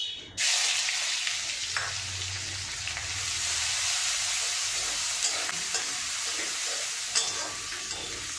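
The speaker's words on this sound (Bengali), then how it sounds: "এবার আমি পেঁয়াজটা দিয়ে দেবো।" Onion drops into hot oil with cumin seeds in a wok while chitol fish muitha is cooked: a sudden loud sizzle that settles into a steady crackling fry with occasional stirring clicks.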